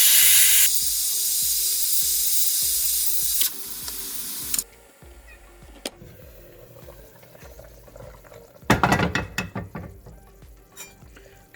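Mutton cooking in a pot on a stove for a Hyderabadi fried mutton dish lets out a loud steady hiss of escaping steam, then quieter sizzling, with clattering and stirring noises near the end.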